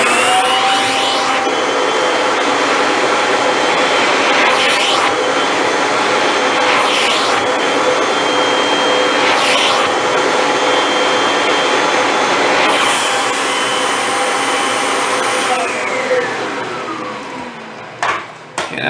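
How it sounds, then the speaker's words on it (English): A vacuum cleaner roars loudly and steadily up close as it sucks chocolate stain residue from carpet, with a few surging strokes before the motor winds down at the end; no talking. "we're going to go ahead and vacuum up that residue so we don't end up emulsifying and putting it right back into the carpet"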